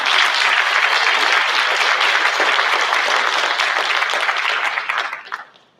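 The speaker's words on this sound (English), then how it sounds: "Big round of applause for Emerson." Loud, sustained applause from a crowd at a school board meeting, steady for several seconds before tapering off and fading out at the end.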